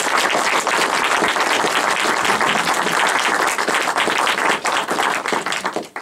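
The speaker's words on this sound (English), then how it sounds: "Can we please put our hands together and give a huge round of applause for John Hunt?" A large audience claps in a loud, sustained round of applause for a guest speaker at a talk event, the dense clatter of many hands holding steady for about six seconds before tapering off at the end.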